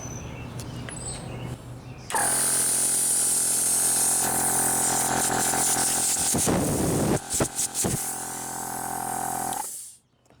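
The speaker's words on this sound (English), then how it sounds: "we're just going to turn on the compressor, let the gauge build up, and see what we get" A Gobege 12-volt air compressor starts up and runs loud and steady, a buzzing motor whine building pressure, with brief hissing bursts partway through before it shuts off.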